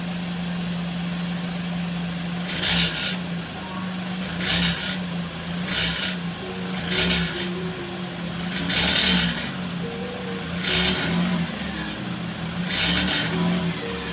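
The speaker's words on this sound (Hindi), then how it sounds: "मैं और रेस दूंगा थोड़ी सी, तभी देखो कितनी आवाज़ करेगा ये।" Maruti Alto 800 engine with a noise problem, idling steadily with a low hum, while a repeated metallic rattling or ticking noise comes in about seven bursts as it is revved lightly, close and moderately loud.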